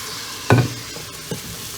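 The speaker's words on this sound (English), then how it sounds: "Mix all the contents once you added the spices to the onions." Onions with salt, turmeric and ginger garlic paste being mixed in an Instant Pot, one firm scrape of a spoon followed by a softer second stir over a faint sizzle.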